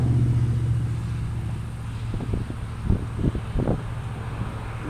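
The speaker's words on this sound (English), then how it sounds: "Let this car go by." A car passes by outdoors, its low rumble building and fading against wind noise, with a few soft thumps as it goes.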